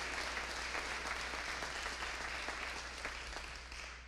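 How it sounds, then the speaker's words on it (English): Audience applause at a funeral service, a steady dense patter of many hands clapping together, fairly even throughout and tapering slightly toward the end, with no talk over it. "Let's give her a round of applause for her strength and her beautiful words."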